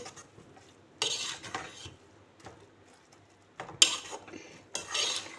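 A spoon scrapes and clanks against a pan while bottle gourd halwa sautés in ghee. Loud stirring strokes come in a few separate bursts over a faint background.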